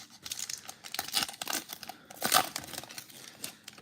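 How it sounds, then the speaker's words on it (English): A 1990 Fleer football card wax pack is torn open, close crinkling and tearing of paper wrapper in quick irregular bursts, with a sharper rip near the middle. "we're going to start ripping into this 1990 Fleer"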